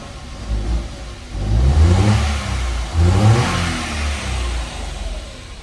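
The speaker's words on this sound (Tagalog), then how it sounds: "Ito na yung sinasabi ng may-ari na minsan umaandar pero ayaw gumana yung RPM." A Kia Picanto with a fault where it starts but won't build RPM runs close by, its engine note loud and steady with two brief swells.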